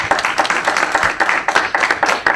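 An audience applauds at a panel discussion on Mexican migration law, a close, steady burst of dense hand clapping with uneven sharp peaks, loud throughout and with no voices over it.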